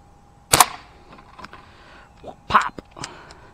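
Crosman .177 American Classic pellet pistol firing 7.4-grain Crosman hollow-point pellets, with a sharp close shot near the start and a second crack with a quick follow-up impact later, separated by quiet handling noises.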